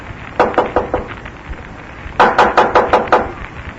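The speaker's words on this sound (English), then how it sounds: "Now knock." Knocks on a door in an old-time radio detective drama: a quick group of four raps, a pause, then a louder, closer burst of about six sharp raps, with no talk over them.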